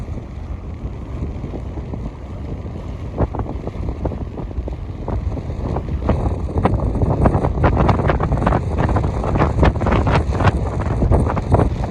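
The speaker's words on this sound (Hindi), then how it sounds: "हवा बहुत तेज़ चल रही है" Strong wind gusting across Pangong Lake in Ladakh, a loud, continuous rushing roar buffeting the microphone and building in force over the second half, with no voices.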